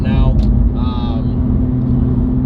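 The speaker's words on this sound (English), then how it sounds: "As you can probably hear, there is a drone." Steady low exhaust drone from a 2019 Nissan GT-R cruising on the highway, a loud continuous rumble filling the cabin under a voice.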